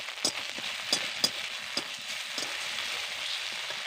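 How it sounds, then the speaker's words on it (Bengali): Ginger and garlic frying in a pan while a pea filling for kachori is prepared, giving a steady close sizzle with a few sharp pops and crackles early on, no talking. "আদা রসুন ভাজবার সুন্দর একটা গন্ধ বেরিয়েছে"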